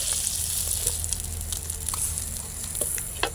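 Singi fish frying in hot oil gives a steady, close sizzling hiss with small crackles and pops scattered throughout, with no voices.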